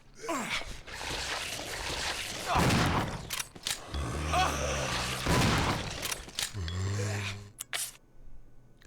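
Shotgun blasts from the video game Resident Evil 0, several heavy booming shots scattered through busy game action with grunts and gasps mixed in.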